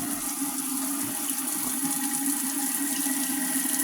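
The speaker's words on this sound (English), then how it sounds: "drain my water on the garbage disposal lid" Rye grain soaking water is drained onto a garbage disposal lid, making a steady, close rushing splash of pouring water that runs without a break.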